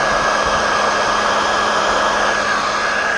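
A heat gun blasts hot air while warming vinyl wrap on a Camaro, producing a loud, constant, close whoosh with no pauses through the short stretch.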